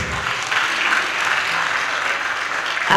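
Big round of applause for Minister Ntshavheni at the handover of K Radio studios in Kanyamazane: steady, fairly loud clapping from a crowd, continuous and even across the whole short stretch.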